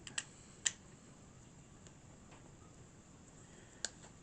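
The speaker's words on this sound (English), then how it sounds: "all those clicking noises you hear, it's just me lifting up the front of this thing" Sharp plastic clicks as the front of a projector is lifted at a hobby painting desk, a few isolated snaps spaced irregularly over a quiet, faint background.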